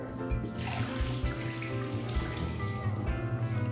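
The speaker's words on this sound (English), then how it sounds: "You're gonna take this now and you're gonna dump this water" Water splashes and trickles steadily out of a bowl as sea moss gel is drained, a continuous pouring gush close by with faint clinks underneath.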